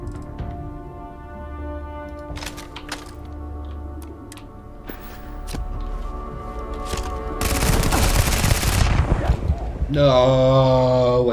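Gunfire in the sci-fi video game Starfield: scattered shots over a steady game soundtrack, building into a loud, dense burst of rapid fire before a blaring alarm-like tone takes over.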